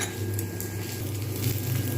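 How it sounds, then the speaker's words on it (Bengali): Onions frying in a pan for cheesy sweetcorn, a steady close sizzle with faint stirring and utensil clatter, no voices. "এখানে পেঁয়াজটা কিন্তু ভাজা হয়ে গেছে"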